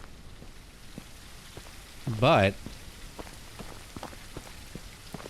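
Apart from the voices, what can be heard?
rain falling in Filipino folklore horror video game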